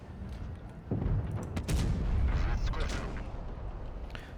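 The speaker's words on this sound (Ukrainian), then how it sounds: "Я зробив постріл" A heavy tank's cannon fires in WoT Blitz, a sharp booming shot followed by a rolling rumble and battle noise, loud and close, with a voice talking over it.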